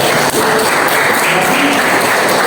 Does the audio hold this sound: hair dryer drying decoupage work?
no